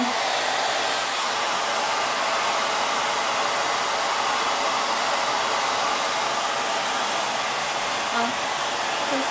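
A hair dryer blows steadily on hair, a loud, unbroken airy roar from start to finish at close range.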